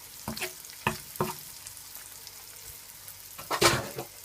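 Steak for a cheesesteak sandwich on a griddle, a soft background sizzle broken by several sharp spatula scrapes and taps as the meat is heaped together, no voices.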